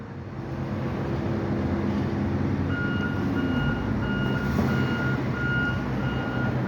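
A reversing truck sounds its backup alarm in a regular series of beeps over a steady, loud engine rumble and road noise, with no talk, as vehicles maneuver on a blocked roadway.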